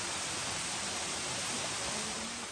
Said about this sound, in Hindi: और ये झरना है ऊपर से